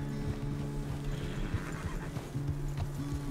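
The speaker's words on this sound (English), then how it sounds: "The horse can feel your fear." A horse in the Red Dead Redemption 2 video game whinnies in repeated tonal bursts over a steady clip-clop of hooves, close and fairly quiet, with light ambient wash behind it.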